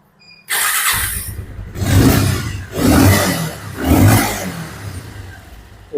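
A Bajaj Avenger 160 BS6 motorcycle engine with a misfiring problem cranks and catches, then revs up in three loud surges with pauses between, close by and with no talking.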